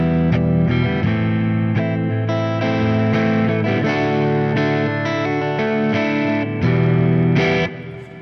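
An electric guitar runs through a chord progression with distortion and chorus effects, sustained chords changing every second or so, loud and alone with no talking.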